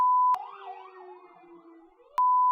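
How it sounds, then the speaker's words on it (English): A fire truck siren passes by a house in Tennessee, wailing in rising and falling sweeps at moderate distance, bracketed by a steady electronic tone at the start and end. "This is the 6th fire truck to pass by my house."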